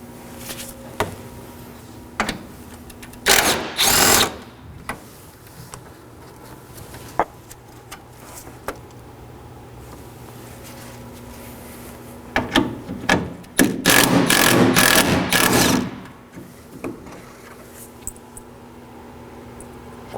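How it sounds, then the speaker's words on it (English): A ratchet works 10mm bolts loose from the engine splash shield of a 2013–2019 Nissan Sentra, giving two bursts of rapid, loud, close clicking separated by quieter scattered taps and handling noises. "Now I'm going to remove two 10mm bolts."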